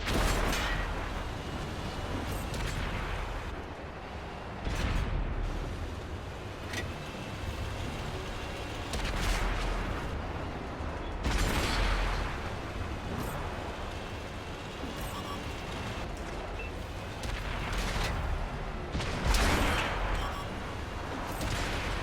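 A Trinity Mark 2 tank fires its cannon in the World of Tanks video game over a constant low engine rumble. Loud booming shots land every few seconds, and the steady drone stays underneath between them.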